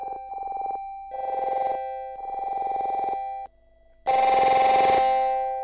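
Sustained synthesizer notes pulse in short held phrases, then a loud, harsh burst of gritty digital distortion fills out the sound.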